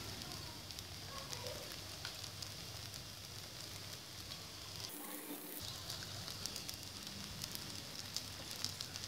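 Egg paratha frying in oil on a pan: a soft, continuous sizzle with fine crackles, fairly faint and steady, briefly interrupted by a short louder rush midway, no talk.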